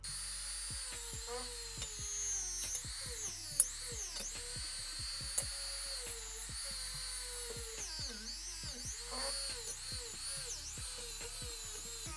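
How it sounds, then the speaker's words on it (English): High-pitched whine of a wire wheel on a power tool cleaning a motorcycle engine case, rising and falling in pitch as the load changes, fairly quiet with a couple of sharp ticks, and no speech. "So I've been trying the regular wire wheels here."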